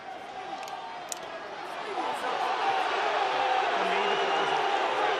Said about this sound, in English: That's what the fans are booing for.